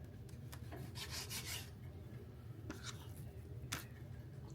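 Knife trimming fat from raw chicken breast, heard as quiet, close rasping and rubbing strokes in short bursts over a low steady background hum.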